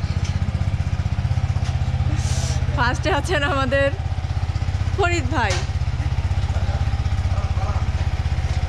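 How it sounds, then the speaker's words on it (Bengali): A motorcycle idles and rumbles steadily up close as it is ridden out of a narrow lane, its engine drone continuous throughout while someone speaks over it twice. "আপনারা এখন দেখছেন কিভাবে গলি থেকে বাইক বের করতে হয়।"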